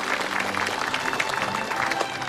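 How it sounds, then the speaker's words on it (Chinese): A crowd applauds steadily at a canal-naming gathering, the clapping dense and continuous at moderate loudness with a faint murmur of voices underneath. "鼓掌。"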